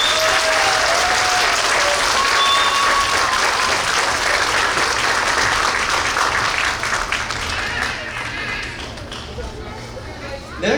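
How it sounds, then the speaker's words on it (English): Sustained audience applause for pre-K graduates and their teachers at a graduation ceremony, a dense, loud wash of clapping that holds steady and slowly tapers toward the end. "Let's give all of our pre-K graduates and their teachers one more round of applause."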